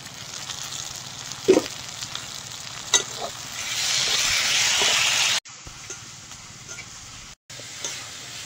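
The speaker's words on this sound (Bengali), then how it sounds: "টমেটো গুলো দিয়ে ভালো করে কষিয়ে নেব।" Tomatoes with crushed garlic frying in a pan, a steady sizzle broken by a few sharp spoon knocks and scrapes as they are stirred, with short gaps where the sound cuts out.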